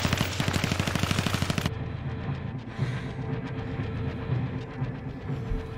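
Machine gun fire in an interactive film: a fast, loud burst of rapid shots at the start, cutting off after about two seconds into a rumbling background with scattered fainter noises.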